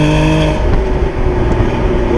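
Porsche Boxster engine during a manual-transmission downshift, with a rising and falling tonal engine note and road roar from inside the moving car, loud and continuous.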